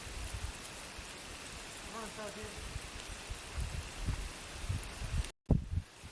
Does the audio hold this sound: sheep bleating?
no